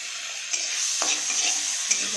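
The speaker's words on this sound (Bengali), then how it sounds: "বাটার ভাতটা গরম হয়ে গেছে এর মধ্যে দিয়ে দেবো হচ্ছে রসুন কুচি আর আদা কুচি" Chopped garlic and ginger fry in hot butter in a pan, giving a steady close sizzle with a few stirring scrapes, no voices.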